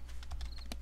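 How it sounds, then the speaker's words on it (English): Footsteps in the 7 Days to Die video game: a quick run of soft, muffled steps, about six or seven evenly paced thuds, faint and close with no one talking. "I'm listening to your footsteps."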